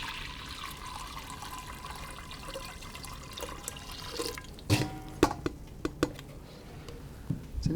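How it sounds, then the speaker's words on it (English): Cooled sweet tea brewed with two tea bags and sugar is poured into a kombucha jar, a steady trickling stream followed by several distinct drips and splashes near the end. "You pour it into your kombucha jar"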